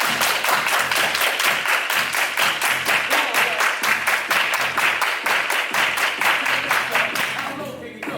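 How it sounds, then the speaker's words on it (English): A group claps hands in quick steady rhythm, loud and close, bright sharp claps repeating evenly for several seconds before trailing off at the end. "Everybody clap your hands."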